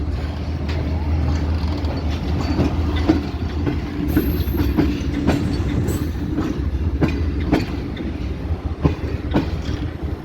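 A train hauled by Blue Tiger locomotive 6007 leaves Multan. The carriage rumbles loudly and steadily, with rhythmic clickety-clack from the wheels and brief higher squeals now and then.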